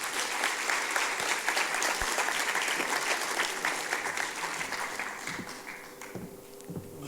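Audience applause for a panel of guests taking their seats at a tourism-law forum, a dense steady clapping that thins out toward the end with a few scattered claps.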